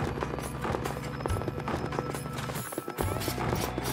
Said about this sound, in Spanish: ¿Qué pasa con el caballo este?